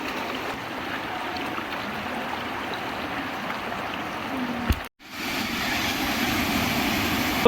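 A rain-swollen stream in the Tamhini ghat jungle rushes in a steady, loud broadband roar, cut by a brief dropout near the end before the flow resumes.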